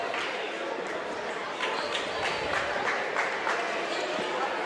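Gym crowd at a boys Class 1A high school sectional basketball game, South Decatur against Oldenburg Academy, a steady murmur of voices with faint sneaker squeaks and ball bounces throughout.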